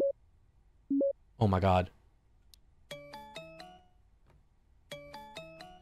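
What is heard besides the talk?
phone ringing in the video game Parasocial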